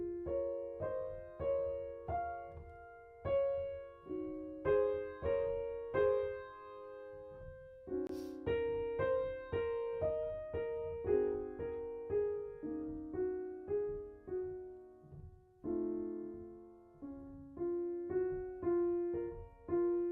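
Solo piano plays Clair de Lune with deliberately uneven force from note to note, so some tones jump out while others drop away. Phrases flow steadily for the whole stretch, close and clear, with no voices.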